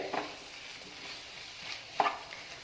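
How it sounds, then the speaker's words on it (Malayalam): Capsicum filling is sautéed in a pan, with a soft low sizzle and two sharp spatula scrapes against the pan as it is stirred. "1-2 സെക്കൻഡോളം നമുക്കിത് നന്നായിട്ടൊന്ന് വഴറ്റിയെടുക്കാം."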